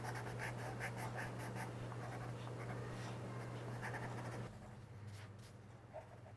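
A blender pencil rubs steadily over paper while a cherry tomato drawing in colored pencil is finished, giving a soft, continuous scratchy whisper close by, dropping quieter after about four seconds.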